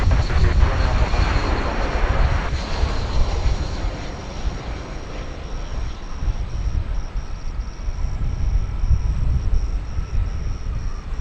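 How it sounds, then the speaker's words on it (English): An American Airlines Airbus A319 arriving at DFW Airport from San Luis Potosi makes a loud, broad jet roar that swells early, eases off, then builds again as a steady rumble. "1119 just about to arrive from San Luis Potosi in Mexico. It's going to be another A319."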